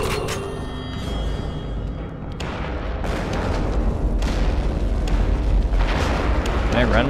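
Explosions in the game Velvet Assassin: several heavy booms and rumbling blasts follow one another over a few seconds, loud and close, with a continuous roar between them.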